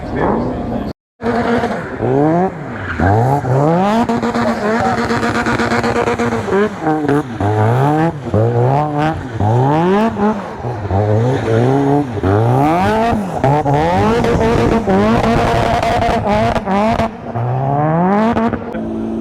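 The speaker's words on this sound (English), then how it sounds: "all these supercars are going to do a little parade lap in there" Supercars on a parade lap at the British Motor Show in Farnborough roar past one after another, loud and close, engines revving up and dropping repeatedly, with tires squealing and a crowd murmuring throughout.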